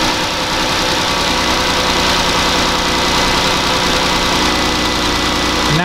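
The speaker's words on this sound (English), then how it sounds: "repeat it with the engine running" A car engine idles steadily throughout during a ground-fault and battery voltage check, a continuous close low rumble with dense mechanical texture and no voices.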